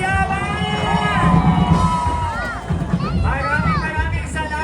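A large street crowd cheers and yells loudly at the Pasig Day civic parade, a dense, sustained roar of whoops and shouts across the whole stretch with a brief dip partway through.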